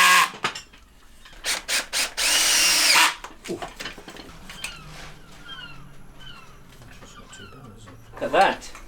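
A power drill drives screws into a wooden frame for a Belfast sink installation, giving a few short whirring bursts close by, then people talking and a dog barking in the background.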